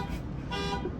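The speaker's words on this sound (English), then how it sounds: "Someone's car alarm's going" A car alarm sounds with repeated honking tones over a steady drone, somewhat distant and moderately faint, brief with no talking.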